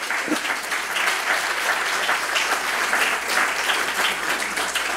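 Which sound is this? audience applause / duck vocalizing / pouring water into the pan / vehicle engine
audience applause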